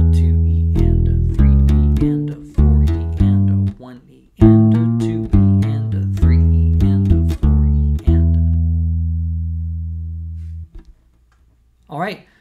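Bass and drums play a groove that moves into a fill, with punchy repeated bass notes over drum hits, ending on a long sustained note that rings out before a brief final sound.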